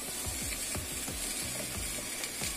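Onion fries in a little oil in a frying pan, a steady, close hiss and crackle of sizzling with small repeated scraping taps as it is stirred, no voices.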